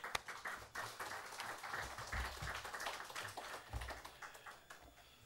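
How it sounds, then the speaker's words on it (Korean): A church congregation applauding to welcome the pastor to the pulpit, a moderate, steady wash of many hands clapping in a reverberant sanctuary with a few sharper claps standing out. "나오실 때 큰 박수로 환영하겠습니다."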